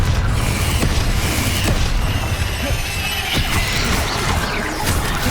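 Spell combat in Hogwarts Legacy, with a Confringo blast erupting amid a dense, continuous wash of magical impacts, crackling bursts and rumbling booms, loud and close throughout.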